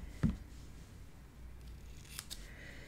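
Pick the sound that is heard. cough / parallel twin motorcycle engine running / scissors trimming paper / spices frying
scissors trimming paper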